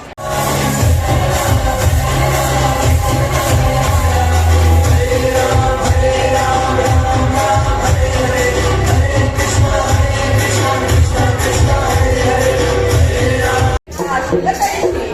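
A packed, noisy crowd fills the hall at a Mangalagaur celebration, a dense continuous roar of voices, shouts and movement, loud and close throughout with one brief cut near the end.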